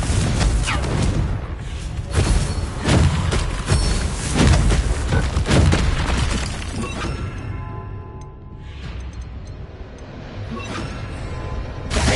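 Confringo fire spell explosions in the Hogwarts Legacy game, a series of loud crashing, shattering blasts and whooshes during combat, heavy at first and thinning toward the end.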